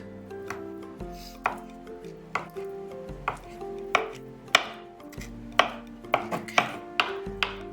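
A knife roughly chops boiled eggs on a cutting board, a dozen or so sharp, close knocks in an uneven rhythm, quickening toward the end, with no speech.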